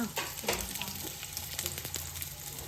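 Onions frying in a few spoons of hot oil while cooking Guntur chicken, a steady close sizzle with scattered crackles and light stirring scrapes throughout, no talking.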